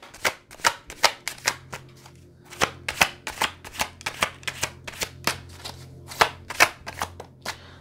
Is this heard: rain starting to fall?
no